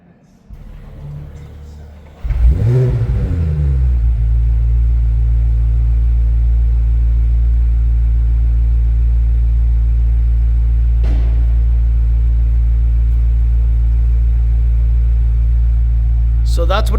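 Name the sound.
2026 BMW M5 V8 engine starting and rumbling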